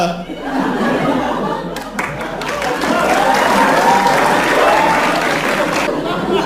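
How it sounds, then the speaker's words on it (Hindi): An audience at a comedy show claps loudly and steadily, mixed with chuckles and laughter throughout. "ये ताली क्या मार रहे हो बे?"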